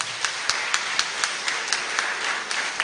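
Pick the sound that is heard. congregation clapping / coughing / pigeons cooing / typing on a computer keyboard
congregation clapping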